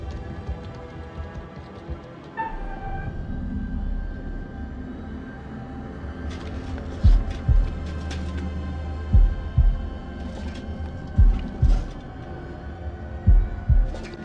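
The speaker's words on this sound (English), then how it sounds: "here's the other minigame, the heartbeat one" Heartbeat minigame sound in the House of Ashes video game, deep thudding double beats that start slow and grow louder and more insistent over a low tense hum and scattered game effects.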